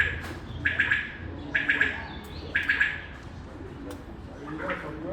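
Pigeons nearby giving a few short raspy calls in a row over faint background noise.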